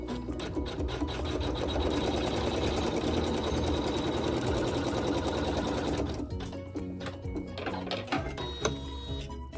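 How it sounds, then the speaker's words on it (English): An embroidery machine stitches an appliqué tack-down on a quilt block, its steady rapid mechanical stitching rhythm loud and continuous for about six seconds, then shifting to a lighter, sparser clatter of slower stitches. "probably on your embroidery machine as well. And I'm just going to stitch the tack down."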